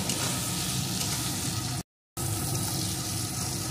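Spices and chilli powder frying in a pan for a prawn curry give a steady loud sizzle that runs throughout, stopping for a brief moment partway through before resuming.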